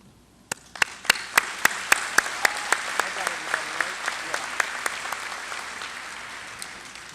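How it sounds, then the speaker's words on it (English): Audience at the 2017 Austintown Fitch high school graduation commencement breaks into applause, beginning with a few sharp separate claps that build into steady, moderately distant clapping throughout. "Let's hold our applause till I say all of them"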